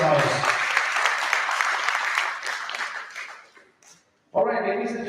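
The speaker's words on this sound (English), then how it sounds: "A round of applause for the mamas." A crowd at a tech talent league event in Pune claps and cheers in a dense, loud burst that fades to near silence, then a voice starts talking over the room.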